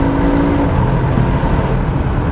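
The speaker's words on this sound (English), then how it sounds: "Let me accelerate now." A Mercedes-Benz G63 AMG Stöckl Edition accelerates, heard from inside the cabin with the roof closed and a window slightly open: a loud, steady low engine drone that builds gradually, with no talking.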